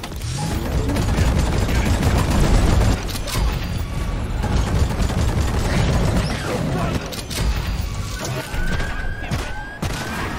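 Dense, continuous gunfire and mechanical clatter from the video game Deep Rock Galactic, loud bursts layered over each other throughout with a brief lull midway, and no talking.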